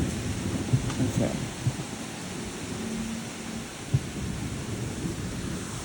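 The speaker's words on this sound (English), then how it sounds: "We'll be able to hear the thunder at least." Low rumbling thunder rolls through a thunderstorm in Troy, Illinois, over a steady hiss of rain, with a few dull thumps and distant booms in between.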